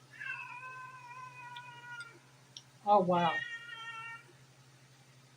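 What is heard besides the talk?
cat meowing and yelling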